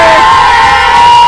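A crowd cheers and whoops loudly and continuously for the winner of a penalty shootout tournament, voices blending into a dense, sustained roar with no individual claps standing out.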